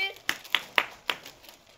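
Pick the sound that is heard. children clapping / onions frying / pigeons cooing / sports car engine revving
children clapping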